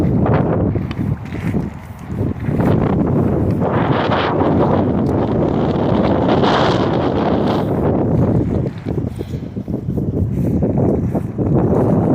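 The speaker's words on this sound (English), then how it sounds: "Sorry if it's noisy from the wind." Constant roaring wind buffeting the microphone on a cold riverbank by the Clackamas River slough, loud and continuous throughout with gusty swells, no voices.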